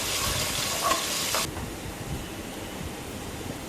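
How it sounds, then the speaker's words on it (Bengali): Chopped onions frying in hot oil in a bowl-shaped pan, with a loud steady sizzle that drops away sharply partway through, leaving a softer continuous hiss to the end; no voices. "এখন পেঁয়াজ কুচিগুলো ভালোভাবে নেড়ে চেড়ে তারপর ব্রাউন কালার করে নেব"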